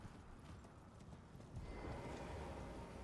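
Horse hooves clop in a fantasy role-playing video game, a soft, steady patter under low rumbling ambience that grows slightly louder toward the end.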